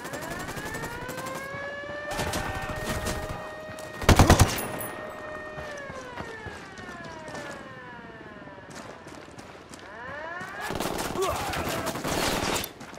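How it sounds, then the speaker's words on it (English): Gunfire in Ghost Recon Wildlands, with scattered shots and bursts, one loud close volley in the middle and heavier firing toward the end, over revving vehicle engines and voices. "Opening fire."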